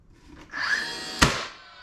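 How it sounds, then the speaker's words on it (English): A DeWalt brad nailer drives a 1 1/4 inch brad nail into wood of a honey super beehive box, a short rising whir followed by one sharp close snap, then a fading tail. "I'll throw a couple brads in here real quick. Using my DeWalt brad nailer, not a sponsor."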